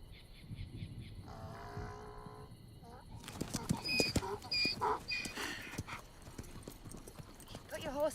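Horse hooves clip-clop in an old Western town scene, with a rhythmic, fairly close patter of hoofbeats mixed with cattle lowing and people talking over them.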